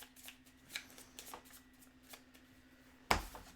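A deck of cards is shuffled for a tabletop card game, a quiet run of soft riffling flicks followed by a sharp, brief snap at the end.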